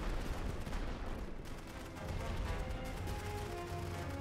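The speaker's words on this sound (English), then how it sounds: "these machine gun emplacements are just absolutely annihilating them" Dense, continuous machine gun fire from emplacements in the World War I strategy game The Great War: Western Front, a rattling barrage mixed with other battlefield gunfire, loud and unbroken throughout.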